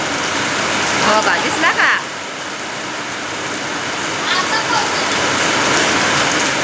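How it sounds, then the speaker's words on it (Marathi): Dense, heavy rain pours steadily as a constant broadband hiss, with a brief voice speaking partway through. "तर तिकडं बघा तुम्ही किती दाट पाऊस आहे बघा"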